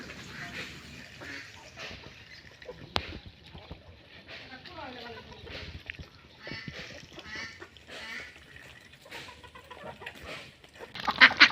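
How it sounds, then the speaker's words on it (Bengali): A flock of ducks feeding, with scattered quacks and honking calls and soft rustling throughout, while a person talks over them; a louder burst of calls comes at the end. "এই তো দেখেন হাঁসগুলো কত সুন্দর করে খেয়ে নিতেছে।"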